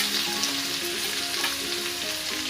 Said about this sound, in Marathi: लसूण आणि मिरचीची पेस्ट टाकणार आहे